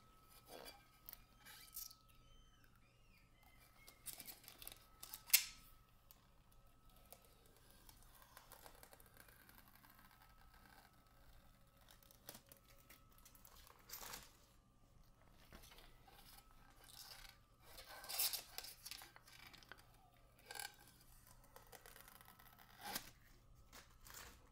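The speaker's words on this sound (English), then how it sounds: "Is just I will try to peel off this plastic sheet." A protective plastic sheet is peeled off an aluminium plate for a reflow hot plate, giving quiet, close crackling and tearing noises in scattered bursts against a very low background.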